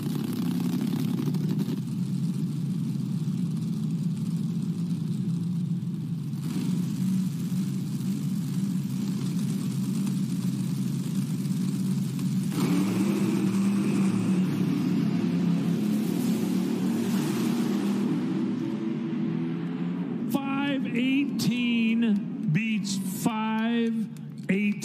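Top alcohol dragsters at the NHRA Nationals roar down the drag strip in a sustained loud engine rumble, rising in intensity midway, followed by sharp revving bursts near the end.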